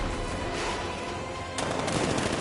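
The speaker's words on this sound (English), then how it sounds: "60mm cannon operational" A 60mm tank cannon fires in the Batman Arkham Knight video game, a dense and steady burst of gunfire over about two seconds, with a sharper blast partway through.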